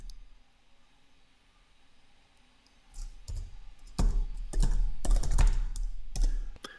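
Typing on a computer keyboard to enter a geth command, starting with a few sparse clicks and then breaking into quick bursts of close, crisp keystrokes that stop and start irregularly.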